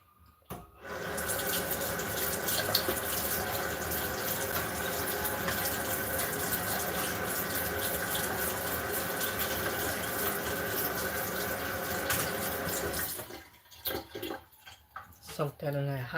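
Hot water pouring steadily from a kitchen tap into a pan left to soak, a loud continuous gushing stream for about twelve seconds that cuts off, followed by a voice talking briefly.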